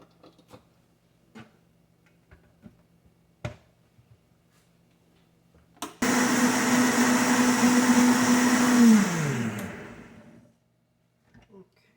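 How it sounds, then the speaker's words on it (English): A blender whirs loudly for about four seconds as it blends water with sugar for a drink, then winds down. Scattered taps and clicks come before it starts. "I'm gonna go ahead and put some water in here and blend it up."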